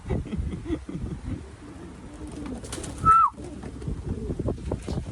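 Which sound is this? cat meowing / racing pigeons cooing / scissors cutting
racing pigeons cooing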